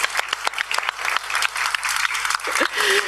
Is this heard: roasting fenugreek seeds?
no